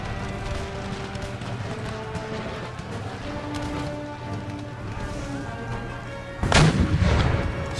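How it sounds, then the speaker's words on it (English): Cannon artillery in the video game Empire: Total War, a low rumbling battle ambience with scattered distant reports, then a loud close cannon blast near the end with a heavy booming tail. "Cannons are shot away."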